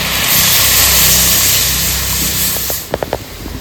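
A little water is poured into hot spice masala in a pan for lemon prawn curry, giving a loud, close, steady hiss of sizzling that fades out into a few brief clinks.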